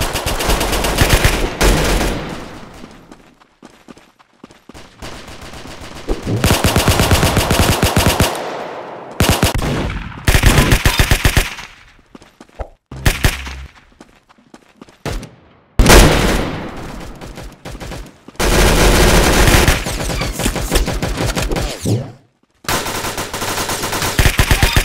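Gunfire in the Roblox shooter Arsenal, with long loud bursts of rapid automatic fire broken by short silent gaps, close and dense throughout, with no talk heard.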